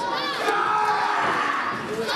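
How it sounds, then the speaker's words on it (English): Wrestling fans fill an arena at an old-school indie show, a loud, dense roar of cheering and shouting that holds steady for the whole stretch, with clapping likely buried inside the crowd noise. "Fans clapping for Butchie Davis."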